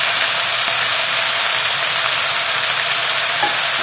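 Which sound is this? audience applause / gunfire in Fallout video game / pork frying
pork frying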